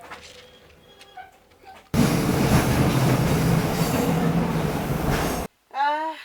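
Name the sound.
train running on rails, Johannesburg to Victoria Falls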